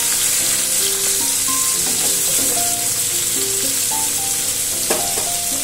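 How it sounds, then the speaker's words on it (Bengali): Cut potatoes fry in hot oil with a steady, loud sizzle, and occasional stirring scrapes break through as the pieces are turned in the pan for a Bengali fish curry. "এবারে আমি এটাকে ভালো করে আলুগুলো লাল লাল করে ভাজি।"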